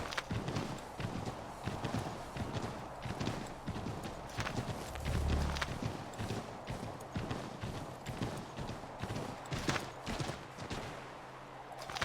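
Horse hooves clip-clop steadily in the video game Assassin's Creed III, a continuous walking rhythm of close, moderately loud hoofbeats over game ambience.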